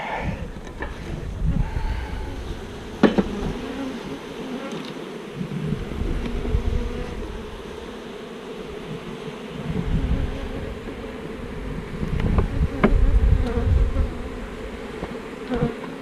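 Honey bees swarm and buzz around a hive opened by a beekeeper, with the upper box lifted off to reach the brood below. A dense, steady drone carries on throughout, with occasional louder passes close by and soft handling knocks.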